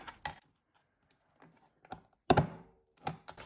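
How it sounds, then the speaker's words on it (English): An envelope punch board punches a tab into a folded junk mail envelope, giving several close, sharp thunks and clacks at uneven intervals, with one heavier punch standing out. "I'm going to take my envelope punch board and make a tab"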